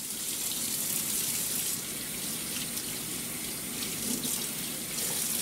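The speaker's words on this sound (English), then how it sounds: "So the first thing we're going to do is rinse the meat" Steady tap water runs into a kitchen sink while raw meat is rinsed under it, a continuous close splashing rush with no talking.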